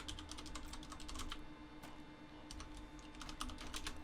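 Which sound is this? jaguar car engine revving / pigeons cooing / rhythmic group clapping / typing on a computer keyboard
typing on a computer keyboard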